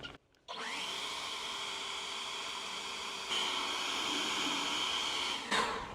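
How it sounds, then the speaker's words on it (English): A leaf blower starts up and roars steadily at close range, its pitch rising slightly midway, then cuts off at the end. "One more blow with the leaf blower."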